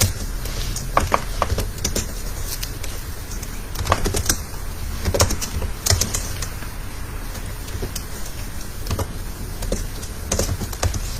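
Someone typing a JavaScript program on a computer keyboard, with irregular clicking keystrokes and occasional sharper key presses, close and steady over a low background hum, with no speech.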